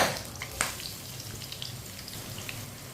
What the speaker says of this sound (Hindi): 2 बारीक कटे हुए प्याज